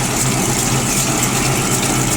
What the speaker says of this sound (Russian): То есть подборщик у нас заработал. Работает очень тихо и очень легко.